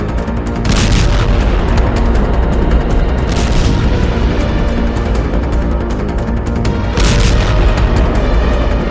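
Loud, sustained battlefield blasts as a rooftop anti-tank missile strikes a tank from above, with heavy booming explosions and rumbling that swell at intervals across several seconds.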